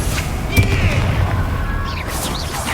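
Confringo spell blast in Hogwarts Legacy, a booming fiery burst followed by a low rumbling roar that lingers, loud and close, with faint magical whooshing trailing off.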